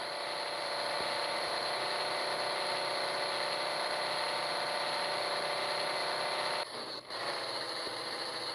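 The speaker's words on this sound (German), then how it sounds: "Und wir geben volle Kanne Gas." A tractor engine in a tractor racing video game is held at full throttle, giving a loud, steady drone that runs almost unbroken, with a brief dip near the end.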